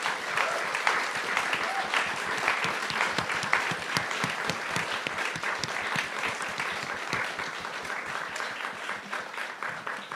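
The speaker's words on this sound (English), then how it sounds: "Can we please give our panelists a massive round of applause for the work that they're doing?" Audience at a panel event gives the panelists sustained applause, a dense wash of many hands clapping with crisp nearby claps standing out, holding steady for about ten seconds.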